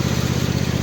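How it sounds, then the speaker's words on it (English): A red tractor engine idles close by with a steady, rapid low chugging pulse, running alone without voices. "that's the red tractor out. I'll let it run for 5 minutes"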